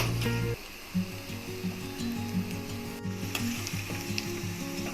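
Bonda dumplings frying in hot oil, with a steady close sizzle and bubbling running through, plus a few small clinks and stirring touches.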